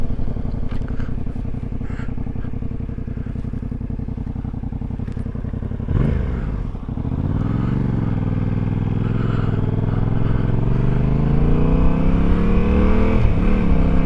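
A motorcycle fitted with a loud MIV exhaust rumbles steadily at close range, then drops briefly and pulls back up into a deep, sustained roar as it rides on.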